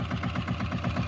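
An ATV engine at a slow idle, a steady low rumbling putter with an even pulsing beat, close and continuous with no voices.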